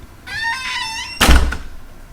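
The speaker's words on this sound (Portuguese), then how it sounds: "ouve a porta do banheiro fechar devagar" A bathroom door swings slowly shut with a drawn-out creaking squeal of the hinge, then lands with a solid thunk and a short rattle, close and alone.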